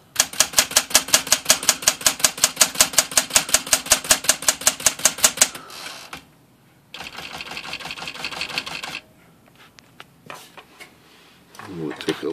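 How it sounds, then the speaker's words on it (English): A Smith Corona Classic Galaxie manual typewriter types a line, a fast even run of crisp key strikes, followed by carriage and mechanism sounds and brief handling noises. "let's type a line on here with some letters that got a flat line on the bottom"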